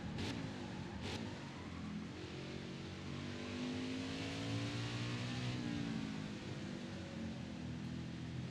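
A race car engine in the NASCAR Heat 5 game, a continuous loud drone with pitch rising and falling through acceleration and lifting, steady and close throughout.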